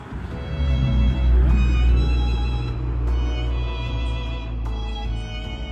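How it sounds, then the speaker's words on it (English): A train pulling away from Chessington South station, a steady low rumble and hum with tonal whine, fairly loud and close, gradually easing as it departs. "That is the train going away."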